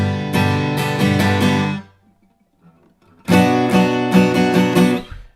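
Acoustic guitar strumming from a song lesson, played in two bursts of rhythmic chord strums with a silent gap of over a second between chord changes, close and clear.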